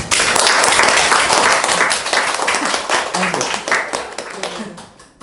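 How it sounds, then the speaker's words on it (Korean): Audience applause closing an online lecture event with Graham Harman, dense broadband clapping that holds steady before fading out over several seconds. "우리 다 같이 박수로서 환대를 하고 이 시간을 마치도록 하겠습니다."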